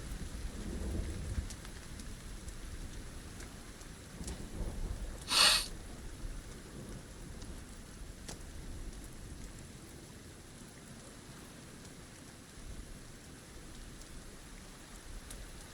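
Steady rainfall in the survival video game Sons of the Forest, soft and even throughout, broken by a single brief crack of thunder early on.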